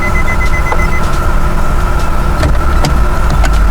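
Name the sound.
car warning beeping in neutral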